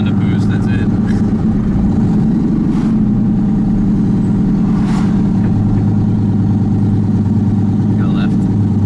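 A turbocharged LSX-swapped Colorado pickup accelerates with a steady, loud mid-low engine drone filling the cab, while people talk over it.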